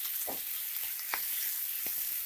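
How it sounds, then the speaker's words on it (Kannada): Ginger garlic paste fries in a pan with a steady close sizzle, while a few soft scrapes and stirring strokes break through over about two seconds. "ಇದು ಸ್ವಲ್ಪ ಹಸಿ ವಾಸನೆ ಹೋಗೋವರೆಗೂ ಫ್ರೈ ಮಾಡ್ಕೊಬೇಕು"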